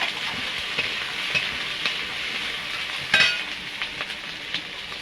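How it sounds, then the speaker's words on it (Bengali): Chopped onion and slit green chili fry in oil in a wok with a steady, close sizzle, while occasional sharper clicks of stirring rise above it. "আমি এটা 2 মিনিট মতো ভেজে নিয়েছি পেঁয়াজটা"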